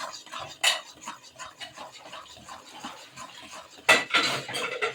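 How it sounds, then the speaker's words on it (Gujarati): Sesame brittle base stirred in a pan with a metal spoon, giving repeated scraping and clinking strokes at a steady pace, with two sharper clanks standing out from the close, moderate stirring. "હલાવતું રહેવાનું પંદરથી વીસ મિનિટ"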